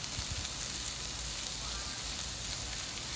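Onions caramelizing with salt in a pan while dal makhani is prepared, giving off a steady, close, broadband sizzle that stays even for a few seconds with no talking.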